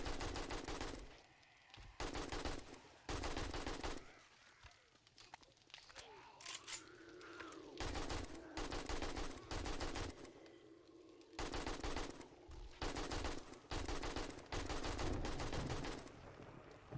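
An AK rifle fires in short automatic bursts in the video game 7 Days to Die, a series of loud, close bursts of rapid shots broken by brief pauses, with quieter sounds in the gaps.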